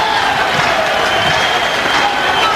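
Tennessee Vols baseball fans roaring throughout at an NCAA regional game in Knoxville, a dense, steady stadium crowd noise with scattered shouts and no clear break.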